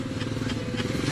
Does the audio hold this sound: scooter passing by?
yes